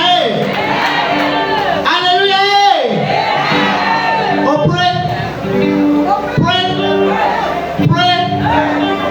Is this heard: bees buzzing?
no